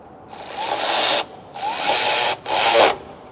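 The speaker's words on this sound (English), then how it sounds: "which now I'm gonna start. with my ratchet" A hand ratchet drives a bolt on a 2021 Ford F550 in three rapid clicking bursts, each about a second long with short gaps between, close and fairly loud.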